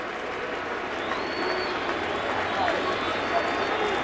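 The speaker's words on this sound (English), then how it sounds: "Crowd chanting Boone, trying to get Boone Logan through this 4th inning" Baseball crowd at a 2011 ALDS Game 5 playoff game chanting for pitcher Boone Logan in the fourth inning, a steady broad roar of many voices filling the stadium, with announcer talk over it.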